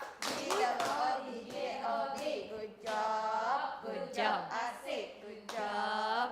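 A classroom group of adults performs a rhythmic clapping chant in Indonesian, voices calling out over sharp, patterned hand claps in short bursts, close and lively.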